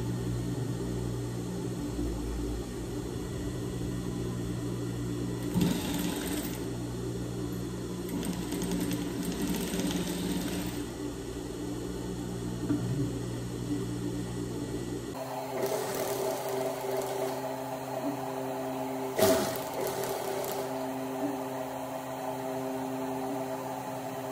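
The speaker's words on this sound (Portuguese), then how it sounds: "Agora passamos uma costura aqui" A sewing machine runs steadily while stitching a seam on a gift-bow rug, its faint mechanical whir continuing throughout and shifting in tone partway through.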